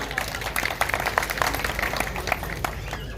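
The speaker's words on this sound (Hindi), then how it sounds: "क्या बात है, तालियां" A village audience claps during a chief minister's public meeting in Abhimanyupur, Haryana, a short burst of scattered, uneven hand claps with some voices mixed in.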